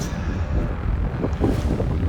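Wind buffets the microphone in a low, steady rumble with small gusts on the Carn Mor Dearg Arete near Ben Nevis, no voices present.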